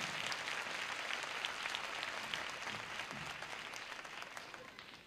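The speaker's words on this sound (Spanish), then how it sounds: "Y Filemón, otro aplauso muy fuerte también." Crowd applause fills a large stadium venue at a 1981 live children's music concert, a dense, sustained wash of clapping that stays loud and even throughout, with no speech over it.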